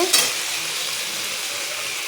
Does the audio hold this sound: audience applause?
no